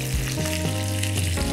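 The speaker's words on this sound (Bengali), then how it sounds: "জামাইদের জন্য কিন্তু পমফ্রেট মাছ ভাজাটা হয়ে গেছে কিন্তু" Pomfret fish fries in hot oil in a pan while a roast is being cooked, giving a loud, continuous sizzle and crackle close by, steady throughout with no talk.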